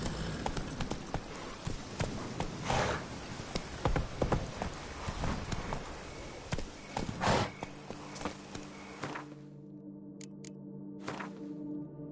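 Roach the horse from Witcher 3 clip-clops steadily on hard ground, the hooves close and rhythmic over a game soundscape, before the hoofbeats stop and the scene goes quiet.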